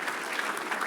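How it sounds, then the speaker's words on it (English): Audience clapping at a conference, a brief dense burst of steady applause. "I want to give a round of applause to Paul"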